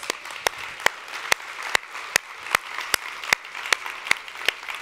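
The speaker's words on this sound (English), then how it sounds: "if you're going to clap, let's clap like we're clapping for Jesus" Church congregation clapping in a slow, unified beat, sharp loud claps spaced evenly about every half second over a low room murmur, with no talk.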